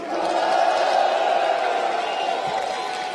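A large crowd at a candlelight rally roars and cheers continuously, a dense wash of voices sustained throughout at high volume.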